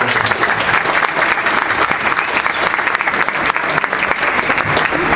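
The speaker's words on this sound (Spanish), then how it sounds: "Para Leandro, para Hernán, un aplauso a ambos." Loud, dense applause from an audience at a squash exhibition in Córdoba, a steady wash of clapping that fills the whole stretch without a break.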